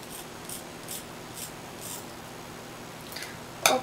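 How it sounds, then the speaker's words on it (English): Scissors snip at side bangs during an at-home self haircut, a few faint, separate crisp cuts spaced about half a second apart, ending in one sharper, louder snip. "So now I'm going to cut around my thumb."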